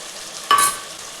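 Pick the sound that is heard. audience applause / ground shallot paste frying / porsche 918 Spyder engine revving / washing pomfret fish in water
ground shallot paste frying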